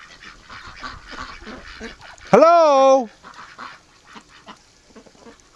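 A single loud, drawn-out quack from a farm duck breaks through quiet background sound, with a voice briefly speaking nearby.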